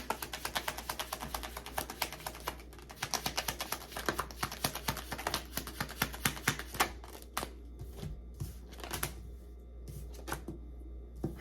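Tarot cards are taken out and handled up close, with a rapid series of crisp flicks and riffling shuffles in rhythmic bursts that fade into softer handling toward the end.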